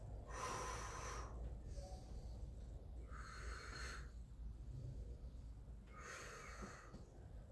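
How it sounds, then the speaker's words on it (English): Slow, deep breaths during a Pilates twist exercise, each audible inhale and exhale rising for about a second then fading, repeating several times close and soft over a steady room hiss. "Deep breaths."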